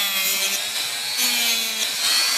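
A thermal tool shaves a thin sliver of warped plastic from the latch of an IBM Selectric typewriter cover, producing a steady, close scraping rasp with faint hum tones underneath and no voices.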